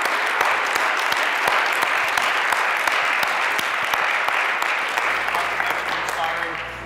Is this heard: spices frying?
no